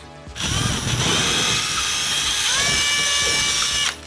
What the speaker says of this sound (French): Donc je perce avec un forêt diamètre 9.